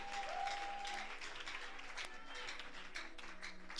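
A church congregation at a Christian celebration service applauds, producing steady, continuous clapping that sounds fairly distant and moderate in level, with a faint tone at the start and no clear voices.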